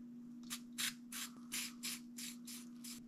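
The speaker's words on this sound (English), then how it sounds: "I'm gonna go ahead and spray this upper portion here with some Rimmel" Eight short hissing bursts of protective spray coating applied to the upper receiver parts of a Henry 22 LR rifle, spaced evenly and close by, over a steady low electrical hum.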